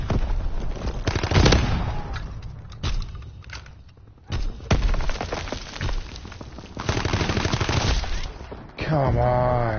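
Sharp bursts of gunfire from the Call of Duty WW2 video game crack out in uneven clusters, loud and close, mixed with game effects and a player's voice talking over the action.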